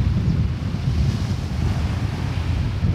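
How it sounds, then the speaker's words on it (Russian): Surf on a beach of the Sea of Azov after a storm has calmed, a steady broad wash of waves mixed with wind buffeting the microphone, continuous and fairly loud with no voices. "Ну, шторма вроде как нету, волны успокоились."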